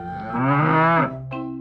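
A cow gives a single loud, drawn-out moo up close, followed by a shorter lower call at the end.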